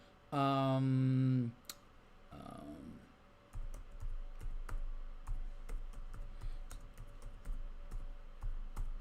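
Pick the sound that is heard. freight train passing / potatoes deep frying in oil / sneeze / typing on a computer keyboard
typing on a computer keyboard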